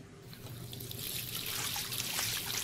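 Water running from a tap in the video game Life Is Strange, a steady close trickle and splash into a sink that gradually fills out and grows slightly louder, with no talking.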